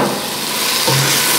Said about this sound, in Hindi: ये देखिए यहाँ पे हमारी मेथी और धनिया और प्याज आपस में भून गए हैं